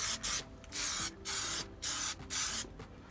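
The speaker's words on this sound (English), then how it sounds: "So now we're going to spray very thin coats," Short bursts of Plasti Dip aerosol spray onto a Honda steering wheel emblem, with five or six close hissing sprays separated by brief pauses as thin coats go on.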